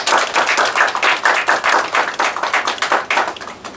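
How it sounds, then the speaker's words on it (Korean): Church congregation clapping in encouragement during a Korean Sunday service, a lively burst of fairly close, distinct hand claps with a slightly rhythmic, uneven pulse. "우리 잘 사세요 하는 격려의 박수."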